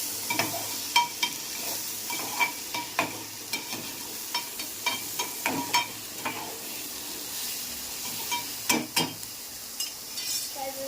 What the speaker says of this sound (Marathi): त्याच्यानंतर मीठ मिक्सिंग करून घ्यायचं